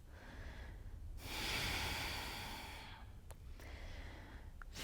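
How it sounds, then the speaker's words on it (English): Slow deep breaths during a morning yoga session, a long broad inhale-exhale swell heard close and alone, followed by a second quieter breath. "5 deep breaths here."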